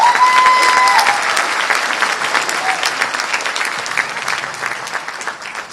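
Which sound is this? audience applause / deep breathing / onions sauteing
audience applause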